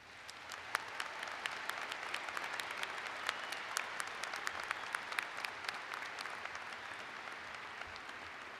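Sustained audience applause fills a university commencement ceremony for the graduating undergraduate class, a dense steady wash of clapping hands with sharp individual claps standing out, continuous throughout and without talk.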